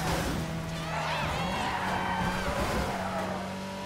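A car spins out in the Midnight Club Los Angeles racing game, its tires squealing in long wavering skids over a steady engine drone, loud and close throughout.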